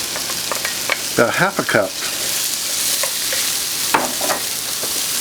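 Chopped carrots, celery and onion sizzle and fry steadily in a hot pan, a constant crackling bed with occasional stirring scrapes, while someone talks briefly over it.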